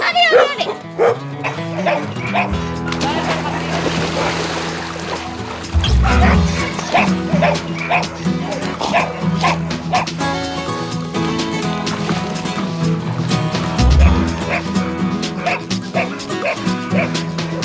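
Several Labradors bark, yip and whimper excitedly outdoors near water, with splashes and people calling to them, dense overlapping sounds throughout.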